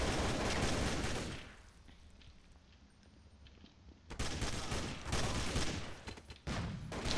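Several Counter-Strike: Source bots firing at once, dense overlapping automatic gunfire, loud and sustained, then a lull and a second heavy barrage with brief breaks.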